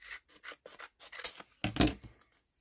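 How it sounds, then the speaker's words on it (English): Scissors snipping paper along the bottom edge of a vintage-themed craft journal page, a run of close, crisp cuts and rustles in uneven bursts, with a louder pair of snips near the end. "need to trim that along the bottom again"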